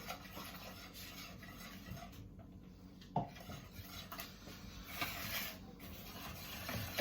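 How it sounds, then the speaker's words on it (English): Scotch pancake batter with milk is whisked in a bowl, giving soft scraping and rubbing strokes of the whisk against the bowl with occasional sharper clinks, close and fairly quiet. "Nicely whisk it all round together"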